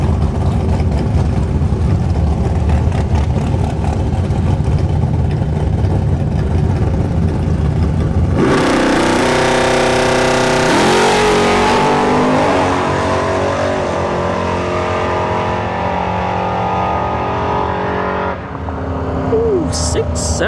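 Cars accelerating down a dragstrip during test-and-tune drag racing: a steady engine drone builds into a loud, roaring launch and sweeping acceleration that fades as the car pulls away. Faint speech underneath.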